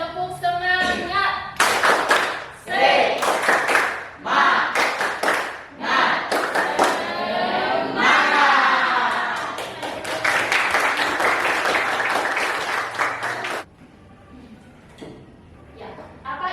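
A school class of eighth-graders performs a rhythmic spirit clap in the classroom, bursts of synchronized clapping and thumps alternating with chanted voices in a patterned beat, ending with a brief quieter stretch.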